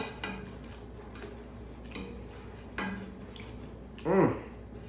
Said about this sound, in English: We're going to add our sausage back into this pot